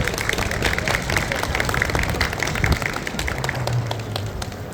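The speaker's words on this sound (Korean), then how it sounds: "뜨거운 박수로 모시겠습니다" Audience applause at a Daejeon memorial culture festival for the 12th anniversary of the Sewol ferry disaster, welcoming an ocarina performer; dense, continuous outdoor clapping from a crowd, fairly loud and steady, with a voice faintly under it.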